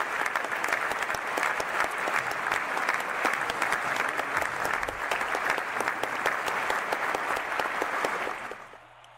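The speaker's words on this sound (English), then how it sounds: "can we get a round of applause for all 6 players in that game?" Applause from a crowd after a Rocket League match, a dense and even patter of many hands that holds steady for several seconds and then fades out at the end.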